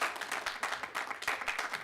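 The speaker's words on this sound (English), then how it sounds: "There has been a lot of clapping, but if we can just keep it down a wee bit." Audience at a council environment and community committee meeting clapping, a brief patter of scattered hand claps from a modest crowd, moderately loud in a meeting room.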